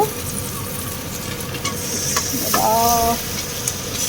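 Marinated chicken hits a hot wok and sizzles steadily, a continuous close frying hiss with some stirring and faint background voices.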